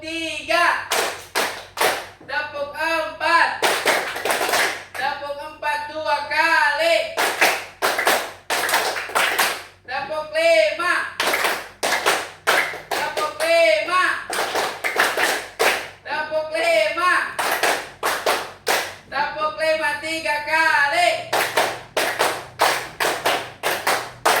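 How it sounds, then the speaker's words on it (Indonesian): A classroom of students claps in rhythmic, patterned bursts during an ice-breaking clap game, with voices chanting along between sharp, closely packed hand claps over a long stretch. "Aplaus dulu buat kalian semuanya"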